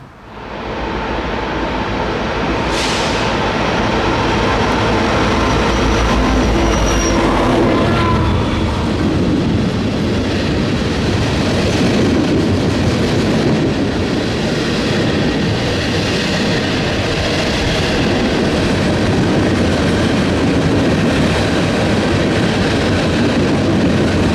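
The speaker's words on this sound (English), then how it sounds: "It wasn't long until I was joined by the trash train" A freight train rumbles past up close, a loud, continuous roar of wheels and cars that builds early and stays heavy throughout.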